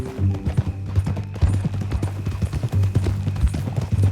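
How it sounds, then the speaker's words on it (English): Horse hooves clip-clop in a steady walking rhythm in Red Dead Redemption 2, close and clear over a low rumble, with harness jingles faintly along. "That a new horse?"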